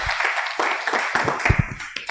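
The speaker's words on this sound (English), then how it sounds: "please give another round of applause for Ralph and Kate" Scattered applause from a workshop audience, uneven bursts of clapping rising and falling, with some distinct close claps and a patchy, fairly modest crowd sound.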